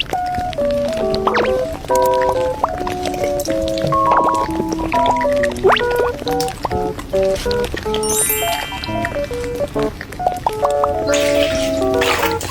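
A continuous bubbling, gurgling effect layered with chiming electronic beeps and little alarm-like tone sequences, busy and steady throughout.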